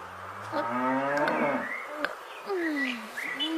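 A cow moos on a farm, one long drawn-out low call with a harmonic bellow, then softer shorter lowing, with faint buzzing insects in the background.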